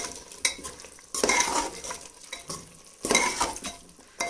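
Gobi and chicken keema being stirred with garam masala and fresh coriander in a non-stick pan, giving steady close sizzling with scraping spoon strokes in two louder bursts, no talking.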